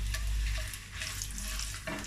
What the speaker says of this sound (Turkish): Havuçları da böyle 2 dakika kavurmak istiyorum.